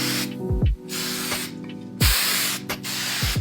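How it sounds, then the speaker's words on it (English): Drugstore hairspray hisses from an aerosol can onto hair in several bursts, each a loud, close, breathy spray lasting about a second, with short pauses between them. "I'll just even use some drugstore hairspray, and I'll spray it on kind of far away"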